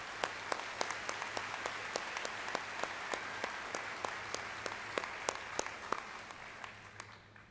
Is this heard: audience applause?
yes